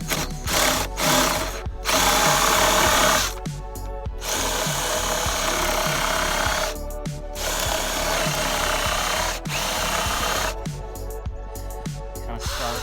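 Loud power tool whirring in repeated bursts, with short pauses between runs, as bolts are driven into the steel parts of a combined yoke and squat rack, clattering hardware underneath.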